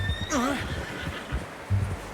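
A horse neighs in Red Dead Redemption, a clear descending whinny in the first half second over outdoor game ambience, followed by low hoof and movement thumps.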